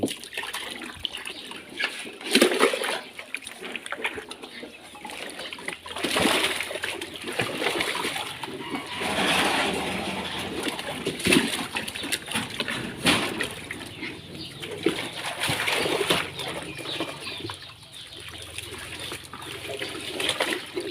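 Elephant drinking from a garden hose stuck in its mouth, with irregular splashing, gushing and sloshing water over a long stretch, fairly close with faint background voices.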